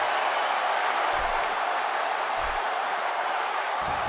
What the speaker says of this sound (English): this Dallas crowd is no exception